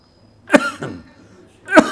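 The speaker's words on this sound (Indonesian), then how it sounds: "Aduh, batuk ya" Two quick coughs in a row, then a third a moment later, close and sharp with no talking.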